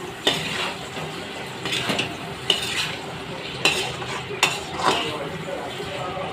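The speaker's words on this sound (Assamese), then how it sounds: "মাজতে পুনৰ এবাৰ লৰাই দিছোঁ, নহ'লে মাংসখিনি লাগি ধৰিব" Meat curry with potatoes is stirred in a pot, the spoon scraping and clinking against the metal in repeated close strokes over a low frying sizzle.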